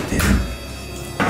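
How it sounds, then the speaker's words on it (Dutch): Inside a house, a door closes with a soft thump, followed about a second later by a second short knock, with quiet room tone in between. "Doe die deur dicht."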